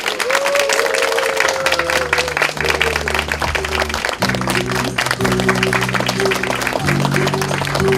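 A book-concert audience claps and cheers continuously for about eight seconds as two guests are welcomed to the stage, steady and loud, with music playing underneath.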